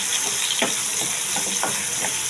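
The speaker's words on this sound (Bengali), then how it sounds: "এই তেলে টমেটো দিয়ে দিয়েছি।" Tomatoes fry in hot oil with ginger and green chili paste, a bright continuous sizzle close by, with a few soft scraping stirs of a spoon cutting through the hiss.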